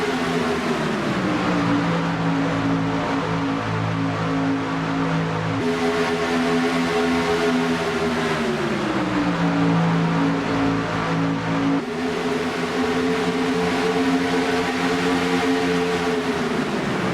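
Race cars roar around Talladega Super Speedway in a steady, loud engine drone, with pitch rising and falling as the cars run through the turns; engine noise carries throughout without a break.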